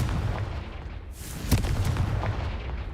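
A Confringo blast spell cast in Hogwarts Legacy, a sudden booming burst with a sharp crack partway through, its rumble lingering over a loud game soundtrack.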